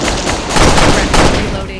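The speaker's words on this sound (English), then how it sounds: "firing, engaging" Rapid bursts of automatic gunfire in the shooter game Execute, loud and dense, with two heavier volleys across a short stretch.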